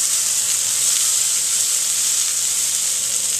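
Salmon fillets with crispy skin frying in a pan, giving a loud, steady, bright sizzle with constant crackling hiss throughout.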